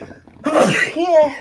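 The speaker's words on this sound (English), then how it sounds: "Me too, because I'm about to sneeze." A single loud, close sneeze bursts out sharply, followed by a brief voiced exhale, with a short spoken word just before it.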